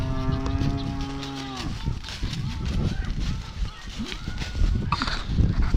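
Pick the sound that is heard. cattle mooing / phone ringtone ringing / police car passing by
cattle mooing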